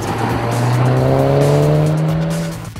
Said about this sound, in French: Son moteur plutôt discret à bas régime se met à grogner et souffler de façon impressionnante